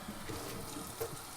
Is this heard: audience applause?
no